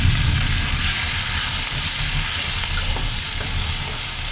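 Steady loud sizzle and hiss of a ground paste of onion, garlic, cumin and coriander with green chili frying in hot oil, continuous and close with no pauses or talk.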